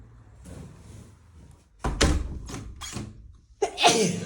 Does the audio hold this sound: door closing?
yes